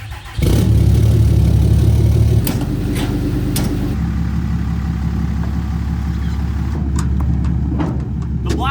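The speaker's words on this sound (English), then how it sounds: "Truck started, which is good." A Cummins diesel truck engine with engine damage cranks briefly and catches, then settles into a steady, loud, rumbling idle close by.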